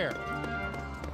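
Hooves clop in a quick, steady rhythm from a horse in the Toy Story 3 video game, under a layer of game music and a speaking voice.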